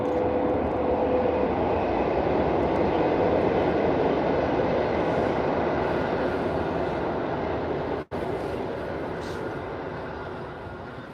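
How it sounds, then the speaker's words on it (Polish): A train passes near a fishing spot, a loud, continuous rumbling roar that holds steady for several seconds and then slowly fades. "po odgłosie pociągu i godzinie by wiedzieli, dokąd dany pociąg jedzie"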